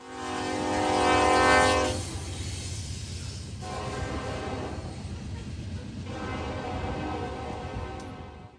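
A grain unit train hauled by two locomotives sounds a loud, sustained horn blast for about two seconds, then rolls past with a steady rumbling clatter of wagons, no voices.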